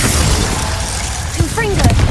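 A Confringo blast spell is cast inside a cave in Hogwarts Legacy, a dense rumbling burst with a brief popping flourish near the end, fairly loud, and a voice shouts over it.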